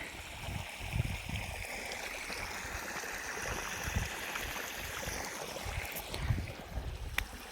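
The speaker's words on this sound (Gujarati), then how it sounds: "બે મોટરનું પાણી ભેગું છે અત્યારે જાહેરમાં ચાલુ છે પાણી" Water from two pump motors flows together in a farm channel, a steady rushing, gurgling wash with low thumps, continuous throughout and fairly close, with no talk.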